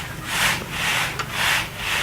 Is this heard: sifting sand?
yes